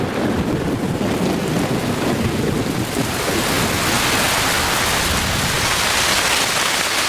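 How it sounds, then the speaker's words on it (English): Heavy rain pours in the Amazon rainforest during the wet season, a loud, dense, unbroken hiss of downpour with deep rumbling thunder rolling underneath throughout. "By the end of December, the rains have arrived with full force."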